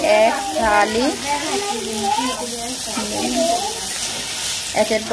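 Noodles fry biryani style with sauce in a pan, giving a continuous hissing sizzle beneath someone talking close by.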